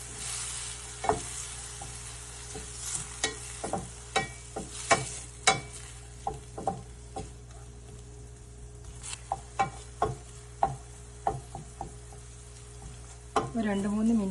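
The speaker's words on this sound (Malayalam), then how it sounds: "ഒരു 2-3 മിനിറ്റ് നമുക്കിതൊന്നിങ്ങനെ ഇളക്കി കൊടുക്കാം" Tomato curry frying in a pan on medium flame with curry leaves, stirred by a utensil that makes repeated sharp scrapes and taps over a low steady sizzle, close and fairly quiet, with no talking.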